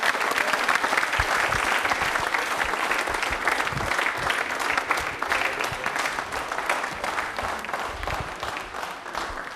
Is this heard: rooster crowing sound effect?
no